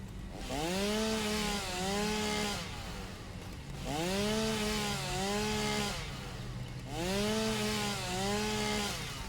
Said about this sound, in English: now let's start chewing up the landscape